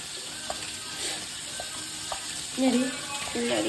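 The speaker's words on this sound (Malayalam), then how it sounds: "നമുക്ക് ഇതൊന്ന് താളിക്കണം അല്ലേ?" Spices sizzling as they temper in hot oil, a continuous crackling hiss with a few faint clinks, growing louder and busier toward the end.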